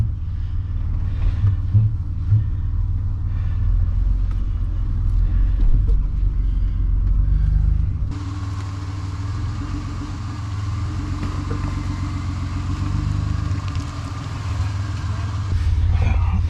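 Car engine rumbling low and steady while driving slowly down the Mintbush Fire Trail, a steep dirt track, with a loud continuous drone, bumps and a shift in tone partway through.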